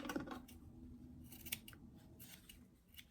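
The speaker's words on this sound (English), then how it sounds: "I'm just going to trim some of these extra threads." Scissors snip extra threads on a sewn formal doll dress, several quick, quiet cuts in an irregular rhythm, close and alone.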